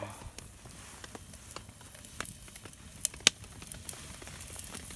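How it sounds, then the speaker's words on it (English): Garlic sizzles in a pan over a campfire as a quiet, steady crackle and hiss, with scattered small pops and a few sharper snaps standing out. "it only took a couple seconds for it to start sizzling"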